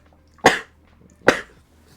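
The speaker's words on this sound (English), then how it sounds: "I have a fucking cough attack right now" Two sharp, harsh coughs during a coughing fit, close to the microphone, spaced under a second apart, with quiet between them.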